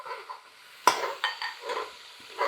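Onion paste frying in a pan over a medium-high flame for beef kofta curry, a soft continuous hiss with a sharp stirring clink and a few lighter scrapes.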